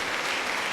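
Newsroom staff applaud as 2018 Pulitzer Prize winners are named, a steady dense patter of many hands at moderate level filling the short moment without a break.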